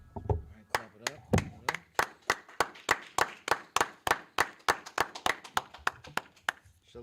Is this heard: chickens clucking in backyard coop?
no